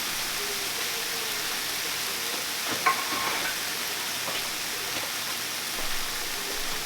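Ground beef and chopped poblano pepper frying together in a pan on medium-high heat, a steady dense sizzle throughout with a brief stir or clatter partway through.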